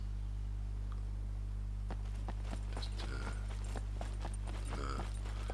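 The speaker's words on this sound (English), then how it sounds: "I think I heard footsteps, and I did hear footsteps" Footsteps in the survival video game SCUM, a series of irregular thudding steps over a constant loud low hum, getting busier toward the end.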